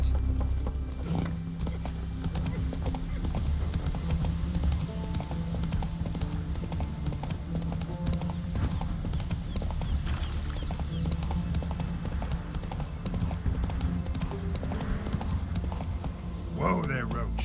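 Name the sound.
horse Roach hooves clip-clopping in The Witcher 3 video game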